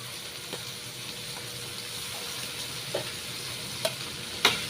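Food frying in a pan seasoned with pepper, spices and oyster sauce is stirred, giving a steady close sizzle with occasional clinks and scrapes of the utensil against the pan.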